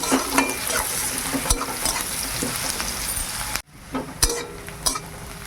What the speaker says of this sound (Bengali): পেঁয়াজটা ভেজে নিয়েছি এবার লঙ্কা সরষে জিরে দিয়ে দিলাম